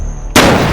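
A single loud gunshot cracks suddenly after a quiet moment, a sharp burst followed by a sustained noisy tail, close and dominant.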